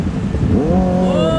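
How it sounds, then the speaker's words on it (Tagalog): A Kawasaki ZX4RR motorcycle revs just after crossing a river, its engine pitch climbing sharply in a single loud, close rev over rushing wind and outdoor noise. "Naitawid naman ng safe yung ZX4RR at napabomba pa."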